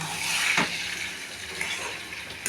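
Hot water left from soaking paneer is poured into a simmering paneer curry, a soft continuous splashing hiss with a brief stronger gush near the start, fairly quiet and without talk.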